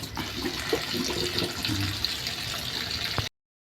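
Tap water running into a cooking pan, a continuous splashing gush that ends abruptly after about three seconds.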